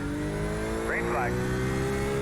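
A C8 Corvette racing at Imola in a racing video game, its engine droning steadily and loud with a brief rising whine partway through, under a voice talking.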